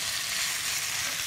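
Webfoot octopus and cabbage stir-fry with plenty of garlic in a hot pan, giving a loud, steady sizzle for about a second with no talking.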